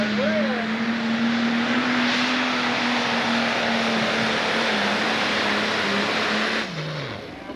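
A 10,000 lb Pro Stock pulling tractor at a co-sanctioned pull in Connersville, Indiana, a 1994 Pro Stock winner, roars loudly and steadily for several seconds under a strained, whining note, then eases off near the end.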